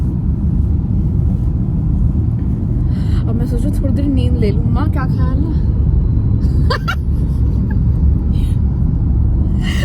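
Inside a moving car with the air conditioning on, a constant low road rumble and steady hum run beneath someone talking.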